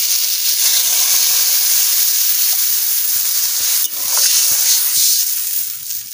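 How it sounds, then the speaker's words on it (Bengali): Water poured into a hot pan of frying red spice paste erupts into a loud, close, continuous steamy hiss and sizzle that surges again partway through, with no talking. "এবারে আমি জল ঢেলে দেবো।"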